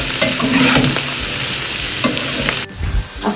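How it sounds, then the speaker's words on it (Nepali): Vegetables fry in a pan for chow mein, with loud sizzling and scraping stirs that stop briefly and then resume. "अहिले चाहिँ म भेजिटेबल्सलाई फ्राई गरिदिन्छु"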